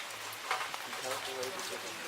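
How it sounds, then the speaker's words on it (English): Steady rain falls outside a building with two observatory domes in Bamberg, Germany, a soft continuous hiss with occasional louder drops, while a person speaks over it. "It's raining, so I'm not going out in it"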